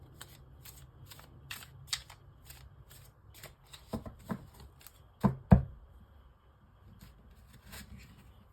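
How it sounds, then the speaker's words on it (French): Arcanum Tarot cards being shuffled close by, a steady patter of light riffling flicks with a few sharper snaps and taps toward the middle, with no voices. "Alors, là, je prends le Arcanum Tarot."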